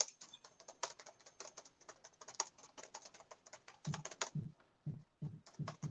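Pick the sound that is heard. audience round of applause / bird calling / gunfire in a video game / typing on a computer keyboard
typing on a computer keyboard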